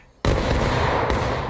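A musket volley in the video game War of Rights bursts out as a sudden loud, massed crack that rolls straight into a sustained rumbling roar, with a second sharp report near the end.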